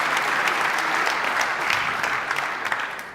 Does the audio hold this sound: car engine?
no